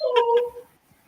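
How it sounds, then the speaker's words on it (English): A dog named Daisy whimpers in a high, thin whine with a couple of short yelping breaks, a single brief cry that fades into near silence. "That's my dog."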